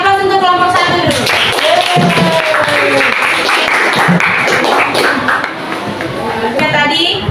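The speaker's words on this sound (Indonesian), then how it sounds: "Kasih aplaus untuk kelompok 1 dulu" Classroom applause for the first student group, steady clapping from a room of students lasting several seconds with voices mixed in underneath.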